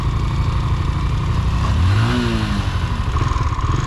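A motorcycle struggles up the steep Morro das Antenas hill road in Jaraguá do Sul, its engine loud and close, revving hard and rising in pitch, then chugging unevenly as it labours on the slope.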